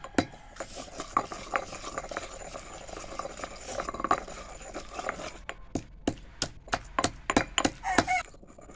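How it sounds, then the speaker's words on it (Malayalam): Chilies and rock salt pounded for chammanthi, a series of sharp knocking thuds that start sparse and become a quick, regular rhythm of close, loud strikes near the end. "ഇനി കുത്താം."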